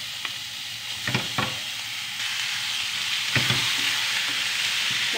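Meat sizzles in a hot pan while being stirred, with a few sharp scraping clacks of the utensil over a steady frying hiss that grows slightly louder partway through.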